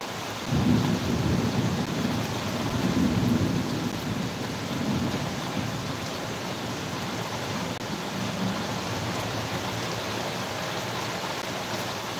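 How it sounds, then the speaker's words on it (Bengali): Heavy rain pours in a dense, constant roar while low thunder rumbles underneath, strongest in the first few seconds before settling into steady downpour. "প্রচুর প্রচুর বৃষ্টি হচ্ছে।"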